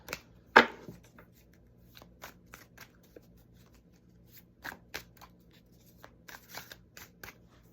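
Tarot cards are shuffled in quick papery riffles and taps, with one sharp snap near the start, then softer intermittent flicks.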